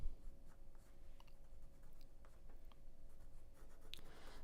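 A pencil sketches a pig portrait on watercolor paper, with soft, steady scratching strokes close by and quiet throughout.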